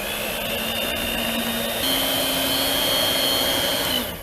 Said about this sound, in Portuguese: E agora eu vou ligar a batedeira e misturar por aproximadamente 1 minutinho.